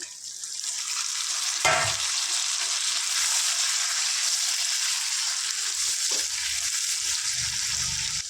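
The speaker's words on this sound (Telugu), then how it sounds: "ఇందులో ఒక మూడు టమాటాలు వేసుకుందాం" Tomatoes frying in a pan of chicken curry give off a loud, steady, close hiss of oil, with a soft stirring knock or two partway through.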